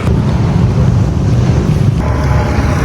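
Loud, blustery wind buffets the microphone outdoors, a constant low roar with gusty fluctuations and no voices.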